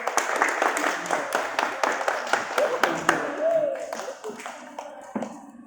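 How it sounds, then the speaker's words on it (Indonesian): Students in a welding class clap for a classmate, a burst of sharp handclaps at close range that thins out toward the end while people talk underneath. "Tepuk tangan buat Arya dong"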